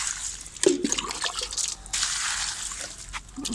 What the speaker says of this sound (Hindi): सारे पेड़ में सुबह को पानी दे दूँ मैं डेली।